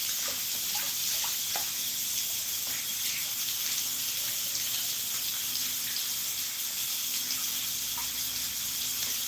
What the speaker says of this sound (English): I'm going to go ahead and wash my hands again